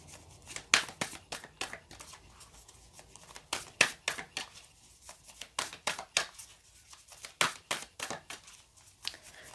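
A tarot deck shuffled by hand, crisp riffling bursts repeating in a steady rhythm, close and fairly soft, with no talking.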